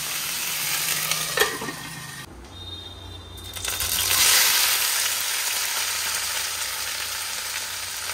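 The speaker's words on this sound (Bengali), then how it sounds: "এই কারণে বোয়াল মাছ রাঁধতে ইচ্ছা করে না জানেন, তেলে দেওয়ার সঙ্গে সঙ্গে যতই কায়দা করে নিই না কেন ফাটবেই ফাটবে।" Pieces of boal fish crackle and spatter in hot oil, a close frying hiss with scattered pops that dips briefly and then swells louder and denser.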